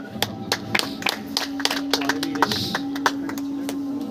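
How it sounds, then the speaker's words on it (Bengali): A crowd claps for a prize winner at a pigeon club cup ceremony, a burst of scattered hand claps close by, loose and uneven, with a steady tone running underneath. "ইমামুলের জন্য একটা জোরে হাততালি"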